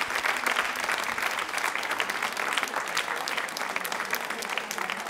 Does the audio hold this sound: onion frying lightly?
no